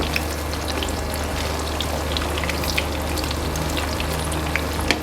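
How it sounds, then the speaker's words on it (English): Soya meat chunks coated in egg and corn flour fry in hot oil for a Sri Lankan devilled soya dish. A dense, steady crackle and sizzle with sharp pops carries on close by, with no voices. "fry this soya meat until it's nice and crispy"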